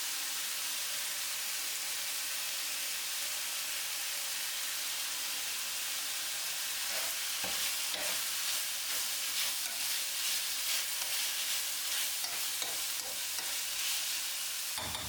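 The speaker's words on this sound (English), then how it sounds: "Give it a good stir and keep sauteing." Pieces of seasoned chicken sauté in a hot pan with a steady, close sizzle, joined midway by scraping and clattering as a utensil stirs the meat around, with no talking.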